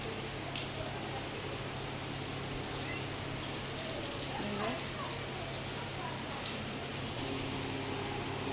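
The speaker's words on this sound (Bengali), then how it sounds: "আজকে আবার হঠাৎ বৃষ্টি হচ্ছে মেঘ করে এসেছে" Sudden rain falls steadily under a darkening, clouded sky, a dense continuous hiss of drops on surfaces that holds at an even level throughout.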